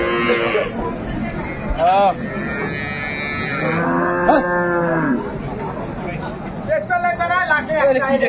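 Dairy cows and calves low with several loud, drawn-out moos at a busy cattle market in Aftabganj, Dinajpur, one call following another over a steady murmur of crowd chatter.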